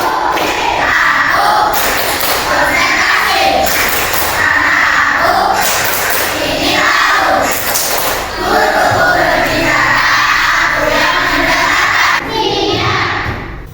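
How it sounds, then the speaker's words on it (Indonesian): Elementary schoolchildren in a classroom doing a spirit clapping chant before a lesson, loud bursts of claps and shouted chanting in a repeating rhythm, with a teacher's voice leading between the rounds. "sebelum mulai pembelajaran kita akan tepuk semangat"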